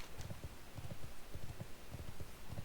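Hooves of a horse mount in World of Warcraft clop in a quick, regular rhythm, faint under a low background hiss.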